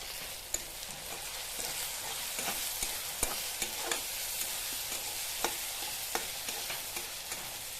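Maggi noodles frying in a pan with salt, producing a steady broad hiss of sizzling, dotted with small pops and occasional spoon taps throughout.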